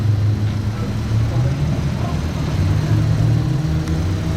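A Novitec-tuned Ferrari supercar with a straight-pipe exhaust works through a hairpin, producing a loud, continuous, rumbling engine drone with a heavy low end that holds steady throughout.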